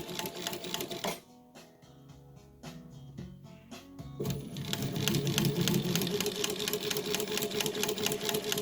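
A chain stitch embroidery machine sewing a circle, its rapid needle chatter running up close, pausing for a few seconds with scattered clicks, then resuming steady and louder.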